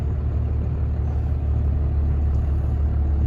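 A Ford truck with a Cummins engine, used for hay hauling, pulls into a shop: a steady, deep engine rumble holds at a constant, fairly loud level, close by and without talking.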